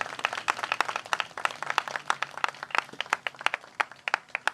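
Congregation clapping in church, a scattered run of distinct, fairly quiet handclaps with an uneven rhythm across the whole stretch and no voices.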